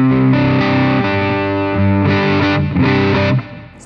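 Electric guitar through a Caline Jaguar Classic medium-gain distortion pedal, crunchy tone, strummed chords ringing out loud and close, then cutting off near the end.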